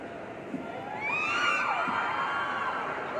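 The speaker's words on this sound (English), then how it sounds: "I hear some screams." An audience at an interview event breaks into high excited screams and cheers that swell and hold, a dense wash of many voices at a moderate distance.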